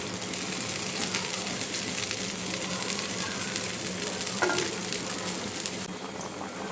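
Fried bele fish goes into a cooked spice masala in a pan, producing a steady, moderately quiet sizzle and bubbling crackle with a brief stirring scrape partway through.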